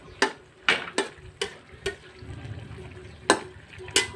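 Eggplant goes into a pot of Thai jungle curry, heard as a series of sharp, close clatters and stirring knocks at irregular intervals over a soft simmering sizzle.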